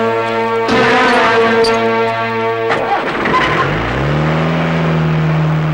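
A car engine fires up with a loud, deep horn-like drone, then revs and pulls away, its pitch sliding upward as it accelerates close by in a Malayalam comedy film scene.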